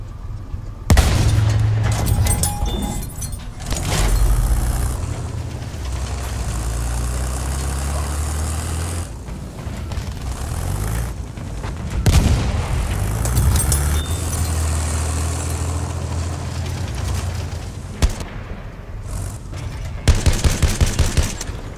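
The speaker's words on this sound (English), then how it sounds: "Enemy bomber!" Enemy bomber aircraft in Battlefield 1 drones with a deep, sustained low propeller-engine rumble through a chaotic battlefield, with bursts of anti-aircraft and machine-gun fire layered over it and no talk.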